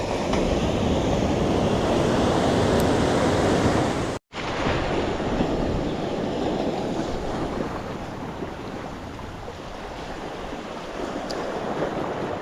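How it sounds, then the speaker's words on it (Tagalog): Strong surf pounds a beach campsite in a continuous loud roar, with heavy wind buffeting the microphone and a brief dropout partway through. "Lakas ng alon."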